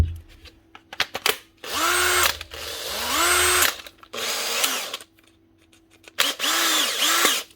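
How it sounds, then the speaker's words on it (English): A Makita DHP 482 cordless drill runs in several separate bursts, its motor winding up in pitch and then cutting off, loud and close, with clicks between the runs. "Now, this is only the cheap and cheerful Makita drill. DHP 482."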